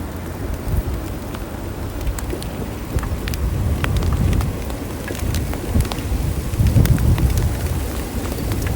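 Steady rain falls and patters on surfaces with a constant hiss, occasional sharper drops and a low rumble underneath, no voices.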